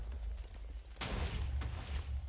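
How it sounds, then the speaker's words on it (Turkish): Bombs are thrown and explode in a modded Minecraft game: a sharp burst about a second in, followed by rumbling blasts over a constant low game drone. "Böyle sağ tıka bastığınızda şöyle bombalar falan atıyor."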